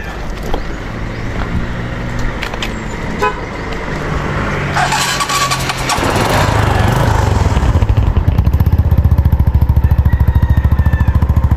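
An engine starts with a revving surge, and its steady, throaty idle continues through an aftermarket muffler on a motorcycle, alongside traffic noise and a brief horn toot.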